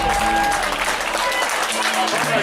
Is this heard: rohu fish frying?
no